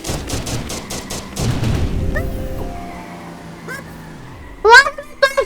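Gunfire in a Thai action video game, a rapid burst of shots at the start, then quieter stretches with brief sharp blasts near the end, while excited voices talk throughout.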